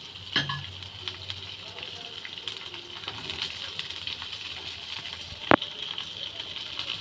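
Onion and whole spices sizzle softly in a small amount of oil, a steady quiet frying crackle with occasional stirring scrapes and one sharp clink.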